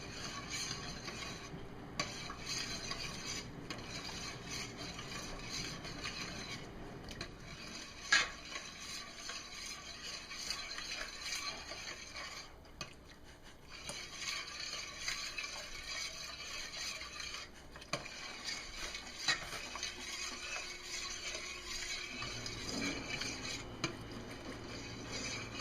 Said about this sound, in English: I'm going to add it very slowly into here, mix,